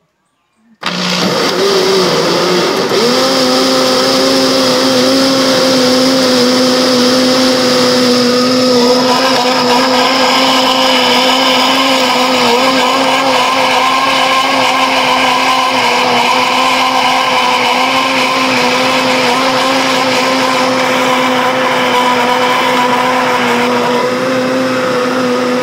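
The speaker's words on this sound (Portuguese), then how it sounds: "Tô com um liquidificador aqui dentro do tanque que ficou melhor pra mim." A blender set inside a sink basin whirs loudly and steadily for about twenty-five seconds after switching on, blending açaí, its motor pitch shifting slightly as the contents churn.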